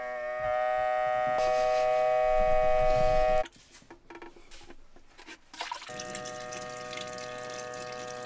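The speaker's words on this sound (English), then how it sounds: "The first thing I'm testing is making sure that the faucet works off the tank." Faucet in a Westfalia camper van drawing water from the onboard tank, a sustained pump hum with tonal whine and water sputtering as trapped air clears, cutting out midway, then resuming.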